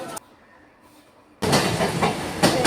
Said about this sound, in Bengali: ট্রেনটা চলে গেল